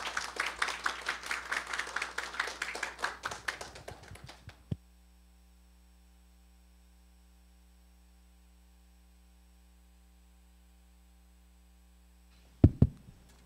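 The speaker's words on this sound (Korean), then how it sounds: "환영의 박수 부탁드립니다" A conference audience at a Korean gas forum claps to welcome a speaker, steady applause for about four seconds that stops abruptly, then a quiet electrical hum and a few thumps near the end.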